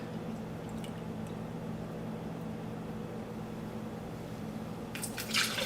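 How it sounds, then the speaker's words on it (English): Liquid pours steadily into a measuring cup with a soft continuous splashing hiss, then a brief brighter splash near the end. "I'm going to fill this measuring cup now with a cup of liquid"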